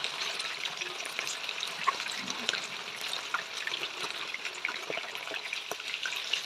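Chilli chicken deep fries in hot oil, a steady close crackle and bubbling fizz that runs throughout without pause.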